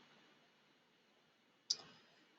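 A single sharp computer mouse click, close and crisp, rising out of a quiet room hum with a short fade after it.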